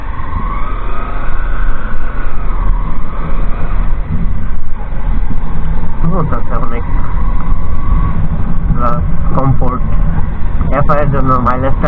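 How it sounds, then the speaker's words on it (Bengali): A Honda SP 160 ABS motorcycle engine runs with a smooth, steady hum and some road noise, while someone talks over it in the latter half. "এই হচ্ছে স্মুথ হোন্ডার সাউন্ড খুব স্মুথ এটা হচ্ছে সাউন্ড"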